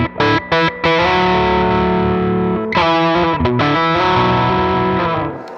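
Distorted electric guitar playing a riff doubled a fourth above, opening with choppy staccato stabs and then holding sustained chords, loud and close, with no speech.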